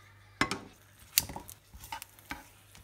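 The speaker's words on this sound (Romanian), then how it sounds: "adăugăm usturoiul și așteptăm să se rumenească" Garlic frying in olive oil in a pan, with a soft sizzle under sharp clinks and scrapes of a utensil stirring against the pan, a few distinct knocks spaced irregularly.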